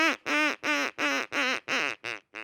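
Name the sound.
hand-carved wooden duck call imitating duck quacks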